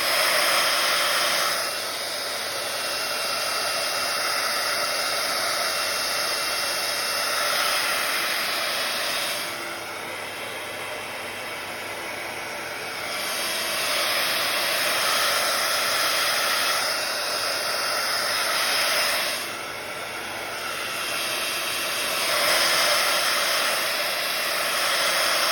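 A heat tool blows steadily over a mixed media journal page, a loud close hiss of rushing air that dips briefly and returns a few times as it moves, with no talk.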